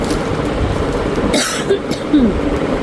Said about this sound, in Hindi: बोल के ना खांसी आ जाती है, इसको ज़रा इग्नोर मार